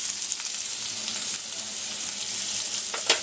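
Onion hits hot oil already crackling with cumin seeds for an okra bhaji tempering, producing a loud, continuous sizzle with scattered sharp pops and crackles close up.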